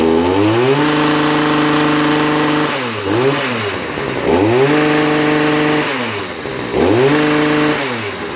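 A Stihl MM55 petrol multi-tool engine runs loudly and close by, its buzzing pitch dipping and rising in a few repeated revs.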